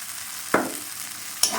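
Chili, turmeric and Kashmiri chili powder are stirred into a frying masala for a potato and pea curry: a steady close sizzle broken by two sharp spatula scrapes.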